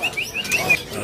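Canaries at a bird shop kiosk give short, bright chirps repeating every few tenths of a second, moderately close, over a busy background hum with no talk.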